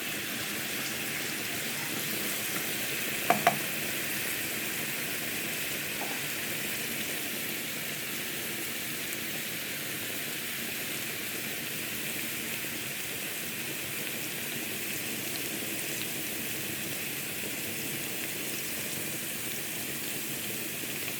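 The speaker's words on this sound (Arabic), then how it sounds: "دابا غنشحروا هاد الثومه مع الزيت البلديه" Garlic sautéing in local country olive oil for an eggplant zaalouk gives a steady, even sizzling hiss throughout, with a couple of faint clicks early on and no talking.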